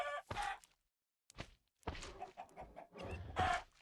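Minecraft chickens clucking in short bursts, with brief gaps between them and a soft thunk in the middle.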